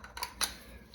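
Small plastic wrench socket for toilet tank nuts handled during a toilet installation, giving a couple of brief, light clicks and clatters close by, with no talking.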